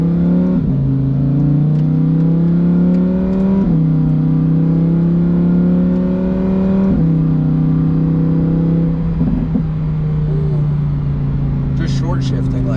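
A 2021 Lamborghini Huracan V10 with an FI exhaust accelerates through short shifts, its loud engine note rising in pitch and dropping sharply at each of several gear changes, with people talking inside the car.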